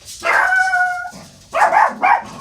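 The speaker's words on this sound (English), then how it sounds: "that barking came in such profound alignment" A dog barks and yips up close, one drawn-out howling bark followed by two short sharp barks, loud and clear with no talking over it.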